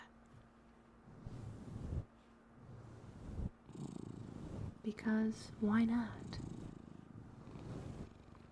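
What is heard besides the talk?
cat purring while being petted, ASMR sound effect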